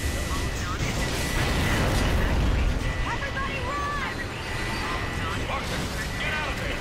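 A large explosion in the Gears of War 3 co-op campaign, a sustained loud rumbling roar with bursts of debris that carries through the whole stretch, while players' voices shout over it.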